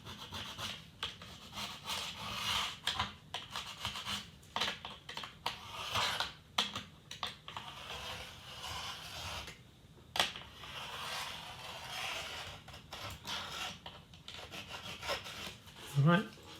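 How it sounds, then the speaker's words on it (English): Tweezers scrape along a dull Tomy AFX / Aurora slot car track in short, irregular rasping strokes, close and fairly quiet, with brief pauses between bursts and a short voice at the end. "I'll just give this a little scrape here."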